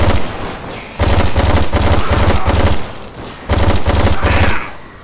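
Rapid gunfire from Left 4 Dead 2 comes in loud, dense bursts of automatic shots separated by short pauses, close and sustained, with no voices over it.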